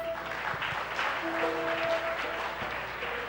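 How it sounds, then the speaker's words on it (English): A crowd claps in steady applause for a few seconds, a dense patter of hands at moderate distance, with faint tonal sounds in the background. "give him a round of applause, please"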